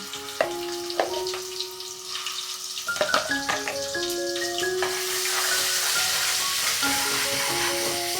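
Crushed garlic dropped into hot oil for a spicy crab curry, crackling and sizzling steadily at close range, with clinks and scrapes of a pan and utensil over the frying and no talking.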